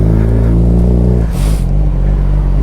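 Suzuki GSXR 600 K7 motorcycle engine running loud and close with a steady harmonic drone, then shifting pitch as it revs, with a brief rush of wind noise midway.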